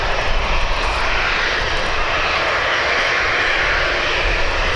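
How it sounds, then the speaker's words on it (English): A Silk Way Boeing 777 jet departing Birmingham Airport, its engines giving a loud, continuous broadband roar that holds steady throughout with no voices. "I'm just announcing that the Silkway 777 is about to depart"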